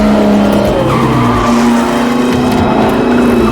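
A race car brakes hard with tires skidding, giving a loud sustained squeal over a droning engine, close and continuous for several seconds in a Ford v Ferrari racing scene.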